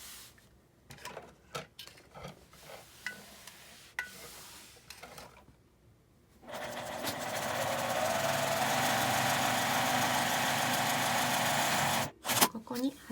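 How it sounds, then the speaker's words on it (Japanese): Sewing machine running a long steady edge stitch along folded, pressed oxford-weight fabric for a cutlery case, a continuous close whirr after some handling noises and pauses, stopping briefly near the end. "半分に折って折り目にアイロンを当てて端ミシンをかけます。"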